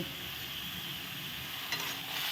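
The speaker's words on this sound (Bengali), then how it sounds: "নেড়ে নেব" A vegetable chorchori with potato, brinjal, pumpkin, pointed gourd and beans, coated in turmeric and chili powder, is stirred in a pan. The soft sizzle and scraping are faint and steady, heard briefly with no talking.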